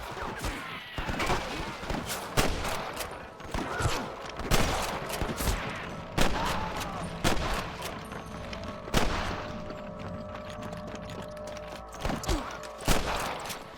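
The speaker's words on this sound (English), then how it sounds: "Damn fine shooting, boys." Gunfire in a shootout alongside deputies in Red Dead Redemption, a Wild West game: dense, irregular volleys of close and distant shots crack throughout, with intermittent heavy bursts over a busy background.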